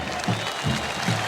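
A football crowd applauds Tevez at Pacaembu during a 7-1 Corinthians win over Santos, with steady stadium clapping and a broad crowd wash, a few louder swells and faint talk underneath.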